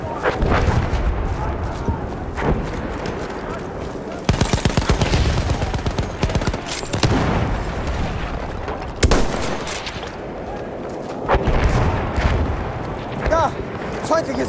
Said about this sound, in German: Feindliches Maschinengewehr!